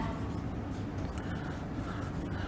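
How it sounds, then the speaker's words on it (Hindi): Marker or chalk scratches steadily across a board during a Class 11 physics lecture on vectors, a continuous close scraping texture with no voice. "यहाँ पे तुमको लिख देते हैं"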